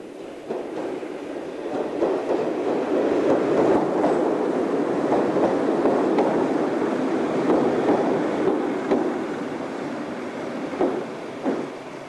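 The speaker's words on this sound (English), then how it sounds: "Here, an Exmouth-bound train ascends the 1 in 37." A diesel multiple unit bound for Exmouth climbs a steep 1 in 37 gradient near Exeter. It rumbles steadily and fairly loudly, with rhythmic clicking of the wheels on the rail joints, and no voices.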